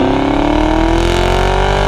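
Chevrolet sixth-generation Camaro SS V8 accelerating hard from a launch, a loud close engine note rising steadily in pitch without a break.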